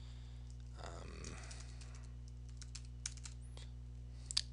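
A computer keyboard gives a few faint, scattered keystrokes at close range while data is entered into a spreadsheet cell, with a short burst of clicks early on and isolated taps later.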